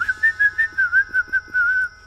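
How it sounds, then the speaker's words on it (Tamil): Someone whistles a short, bright tune of about eight quick chirping notes ending on a held tone, clear and close with no talk. "என்ன ஏதோ விசில் சத்தம் கேக்குது"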